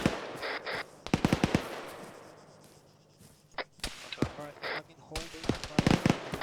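Rifle and machine-gun fire from a base-of-fire position in the ArmA 3 military shooter, sharp cracks in clustered bursts and single shots, loud and close, with a quieter lull midway.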